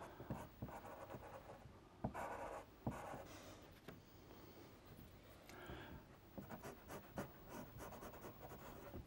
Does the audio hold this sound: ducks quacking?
no